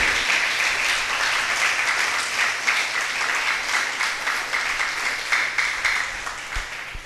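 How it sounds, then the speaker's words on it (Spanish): A church congregation applauds, a dense sustained wash of many hands clapping that carries on steadily, loud and close. "Le damos un aplauso a ese Dios que vive y reina"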